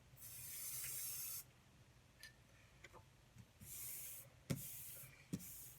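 A spray can misting onto a Home Depot doormat from a distance for sublimation, two long hissing bursts with a few short taps and clicks between them, fairly quiet and close with no talking.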